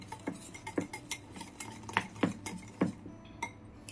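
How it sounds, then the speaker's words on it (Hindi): A spoon stirs a yogurt and gram flour batter in a bowl, tapping and scraping against the sides in quick, irregular strokes, close and fairly quiet, with no voices. "इसको अच्छे से मिक्स कर लेंगे"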